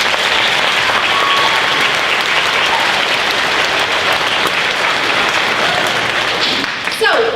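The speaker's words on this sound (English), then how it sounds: "Please give her a round of applause." A school winter concert audience at a 4th and 5th grade performance breaks into loud, sustained applause from many hands, filling the whole span before tapering slightly near the end.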